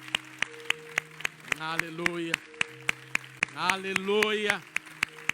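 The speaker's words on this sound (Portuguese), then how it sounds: "Vamos agora aplaudi-lo com toda a força." A church congregation claps in a steady beat, about twice a second, beneath voices singing in worship.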